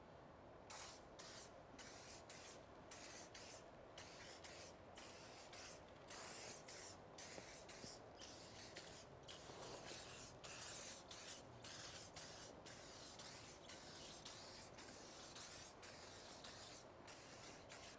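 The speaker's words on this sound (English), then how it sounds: "So just go ahead and give it a light burst and let's get the tire shiny." Tire shine is sprayed onto a car tire in a long series of short hissing bursts separated by brief pauses, close up and fairly quiet.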